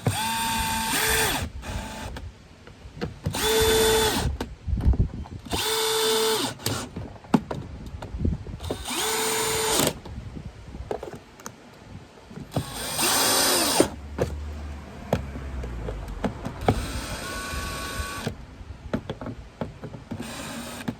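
A power drill whirs in short bursts while servicing a VW Golf, starting and stopping repeatedly with brief pauses and light clatter in between.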